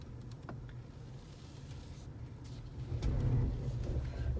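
A Subaru Solterra electric SUV rolls over slick mud on an off-road trail, a steady low rumble of tires and drivetrain that builds and grows louder toward the end.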